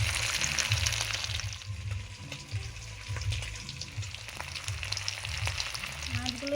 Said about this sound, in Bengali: মাছগুলো তো ভেজে আমি তুলে নিয়েছি